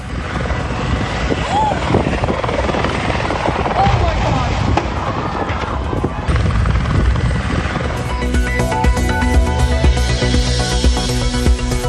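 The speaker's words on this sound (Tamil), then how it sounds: "கொடைக்கானல் தரையிறங்கும் போது தடுமாறிய ஹெலிகாப்டர் கீழே விழுந்து விபத்துக்குள்ளானது" A helicopter rotor throbs loudly and steadily in news footage of a helicopter crash on landing at Kodaikanal, with a news presenter speaking over it and music rising in the last few seconds.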